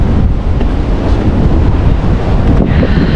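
Strong wind at a windmill site in Ilocos Norte, Philippines, roars and buffets the microphone in a constant, loud rush, with no talk heard.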